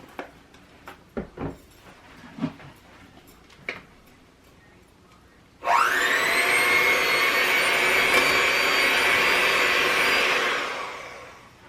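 Electric mixer beating red velvet cake batter, a steady loud whirring drone that starts abruptly after a few light clinks and runs about five seconds before tapering off.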